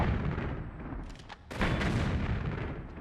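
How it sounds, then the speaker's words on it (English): Rocket launcher fire against hybrid monsters in Tomb Raider 3's Lost City of Tinnos, a dense roar of repeated booming blasts that swells again after a brief dip, loud and continuous throughout. "There you go, see 3 rockets per monster."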